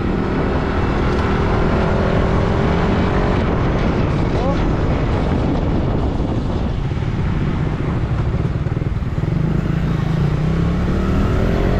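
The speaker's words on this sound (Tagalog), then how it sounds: "Motorride muna, motorride bago umuwi." Motorcycle ride recorded on the bike, with continuous engine hum, wind buffeting and road noise at steady high loudness for the whole stretch.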